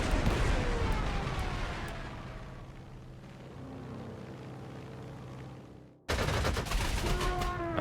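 Stuka dive-bomber attack in the Panzer Corps 2 strategy game, a dense rumbling barrage of explosions and gunfire that fades, breaks off briefly, then resumes loudly.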